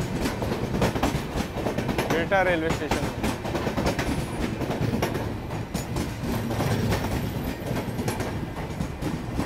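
Jammu Tawi–Patna Archana Express passing at Bihta railway station, a steady loud rumble with clickety-clack of wheels, a brief horn-like tonal burst early on, and a voice speaking over the train.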